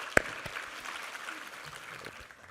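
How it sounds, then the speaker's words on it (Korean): A Korean church congregation gives a round of applause after a Sunday sermon reading, heard as soft, distant clapping after one sharp clap at the start, with faint voices around it. "우리 하나님께 감사와 영광의 박수 올려드리겠습니다"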